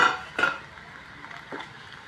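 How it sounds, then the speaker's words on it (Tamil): Leftover cooked rice stirred in a metal pan with a spoon, making a few close clinks and scrapes, one sharp knock near the start and a softer one later. "நீங்கள் சாப்பாட்டை போட்டு கிளறிக்கோங்க"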